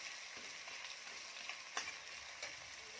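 Chopped onions, five or six large ones, frying in oil for Kolhapuri mutton rassa: a faint, even sizzle with a few soft stirring clicks, and no voices.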